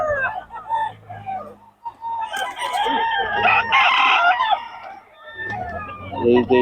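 A young rooster, a bull stag, crows loudly and close in repeated calls with harmonic bursts, while clucking fowl and other birds mix in around it.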